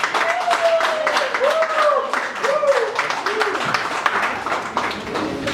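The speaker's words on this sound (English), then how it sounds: "please give a round of applause for Vivek sir" An audience at a live music performance event gives a round of applause, with dense, continuous clapping and some voices cheering over it.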